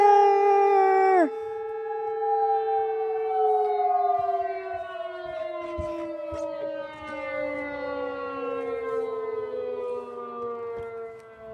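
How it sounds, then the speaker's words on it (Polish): An old civil defense siren wails loudly and steadily for about eleven seconds, its drawn-out tone sliding slowly downward in pitch, heard alone without talk. "To jest stara syrena."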